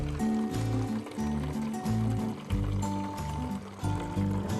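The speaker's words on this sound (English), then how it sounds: "And then she just fills the jug up." Liquid is poured into a reused plastic jug to make homemade apple cider vinegar, a continuous gurgling fill whose pitch shifts in steps as the jug gulps, close and steady.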